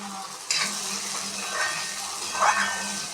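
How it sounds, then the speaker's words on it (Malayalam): Fish frying in a pan for the children in a home kitchen, a steady hiss of sizzling oil with occasional stirring scrapes, moderately close and continuous without talk. "മക്കൾക്ക് മീൻ വറക്കണത്."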